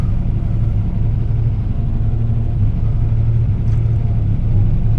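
A 1986 Buick T-Type engine idles steadily after sitting a week, a deep, even rumble heard close and loud without a break.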